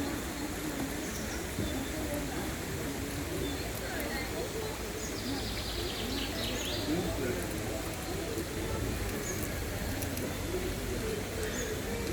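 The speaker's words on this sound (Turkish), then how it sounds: "Yeşillikler içinde kuş sesleri," Scattered bird calls and chirps over a soft, busy outdoor background at a green picnic area by a stream, fairly distant and faint, with a few sharper tweets standing out.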